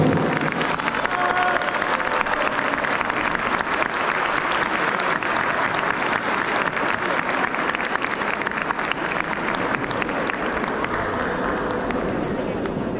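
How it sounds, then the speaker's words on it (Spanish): Crowd applause at a school Fiestas Patrias dance performance, a thick continuous roar of many hands clapping with some cheering mixed in, loud and steady from start to finish. "Nosotros recibimos con un fuerte aplauso"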